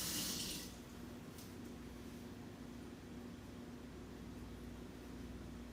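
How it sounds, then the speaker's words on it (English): Tap water runs steadily into a sink as a spoon is rinsed, a continuous close hiss with a brief brighter splash at the start and no talking. "Rinse it off a bit."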